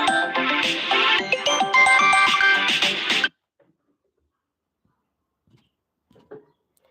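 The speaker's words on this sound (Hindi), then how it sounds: "फ़ोन आ रहा है 2 बार" A mobile phone rings with an incoming call, a loud, busy melodic ringtone playing for about three seconds before cutting off abruptly, leaving near silence with a few faint knocks.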